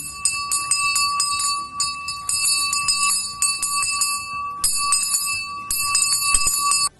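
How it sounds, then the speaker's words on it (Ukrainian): A school bell rings for the first day of school at a lyceum, loud bright ringing that sounds in long bursts with short breaks between them. "Дзвінок повідомляє Перше вересня."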